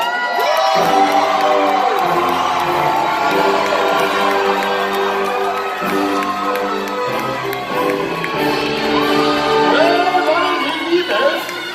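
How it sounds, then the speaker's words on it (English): A large crowd at a Medieval Times tournament show in Buena Park, California, cheers, shouts and whoops loudly for the whole stretch, with surges of yelling and children's voices rising over a booming hall. "Turn and hear your people cheer."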